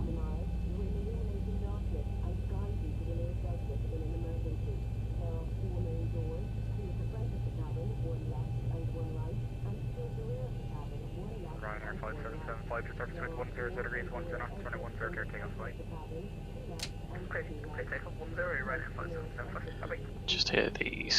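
A Boeing 737-800 jet engine spools up from start in X-Plane 11, a low steady whine and rumble under quiet voices, with faint beeps and chatter joining toward the end.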